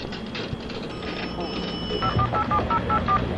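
Payphone being dialed in a radio advertisement: a rapid series of short, clear dial tones near the end, over background noise and voices.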